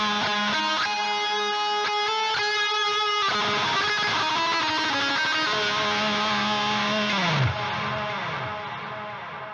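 An electric guitar runs through a pedalboard with chorus, tempo-matched delay and reverb, ringing out moody, atmospheric sustained chords, with a pitch dip near the end and a long reverb tail fading out.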